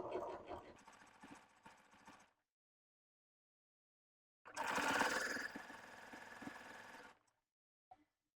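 Sewing machine stitching layers of sweater knit, two bursts of fast rhythmic needle clatter separated by a silent pause, close and moderately loud.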